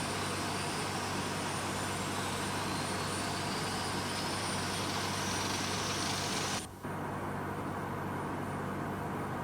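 Airliner jet engine number 2, the right-hand engine, as its fan starts to spin on the ground, a steady broad roar with a faint rising whine, heard from inside, cutting to a quieter hum partway through.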